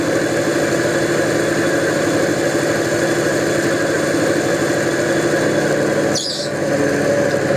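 Diesel engine burble from a model railway HST fitted with onboard speakers, a steady loud rumbling idle that runs unbroken throughout, dipping briefly near the end before resuming.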